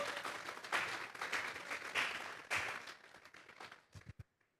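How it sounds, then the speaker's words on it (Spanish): A church congregation applauds during a Spanish-language sermon, dense clapping swelling and fading in waves before tapering off into a few last scattered claps. "Vamos a darle un fuerte aplauso pues al Señor."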